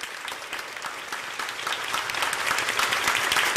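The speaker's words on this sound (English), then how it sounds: "You can hear the applause for the Holy Father's arrival." A crowd at Sophia University in Tokyo applauds Pope Francis's arrival, a dense, steady clapping that builds slightly over a few seconds.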